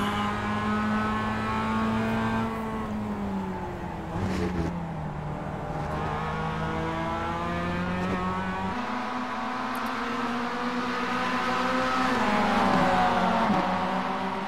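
Mazda MX5 race cars in the iRacing game scream through the gears in a close pack, with several engines overlapping as their pitch climbs, falls and climbs again through shifts, loud and continuous with no talking.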